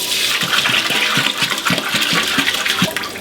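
Eight litres of water gush into a large cooking pot already holding salt and red vinegar for octopus, a loud, close, churning pour with a pulsing rhythm throughout.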